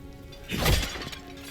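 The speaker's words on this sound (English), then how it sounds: "you'll be smashing a whole bunch of pots if you don't know exactly where to look" Pots smashed in the video game The First Berserker Khazan: a single sharp shatter of breaking pottery, loud and close, bursting out briefly and trailing off into game ambience.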